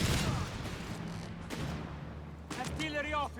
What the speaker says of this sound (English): Silence that fucking machine gewehr!